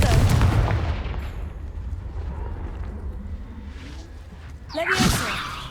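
In the video game Hogwarts Legacy, the Confringo blasting spell goes off in a loud, booming burst that rumbles away, followed by quieter game ambience and then a second sharp whooshing blast near the end.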